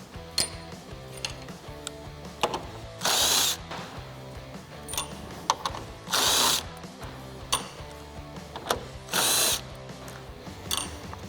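A power tool removes 8 mm bolts holding the front bumper of a 2015-2017 Ford Mustang. Three short, loud whirring bursts stand out against quieter ratcheting clicks and mechanical rattles.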